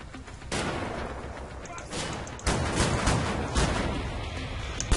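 Gunfire in the shooter Wolfenstein: The New Order, a continuous rattle of shots with sharp bursts cutting in, loud and close, layered over dense game noise with no talk.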